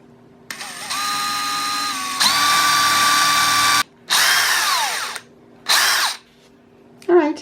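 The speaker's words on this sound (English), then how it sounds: "I will drill a hole, so I'm using my drill bit to do that first." A power drill bores a hole in wood for a box shelf: a steady whirring run, a longer, louder run, then two shorter bursts of the motor spinning up and stopping, close by.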